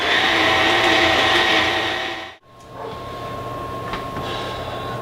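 An electric mixer whirs loudly and steadily through chocolate chip cookie dough, then cuts off abruptly halfway, leaving a quieter room hum with a few faint clicks.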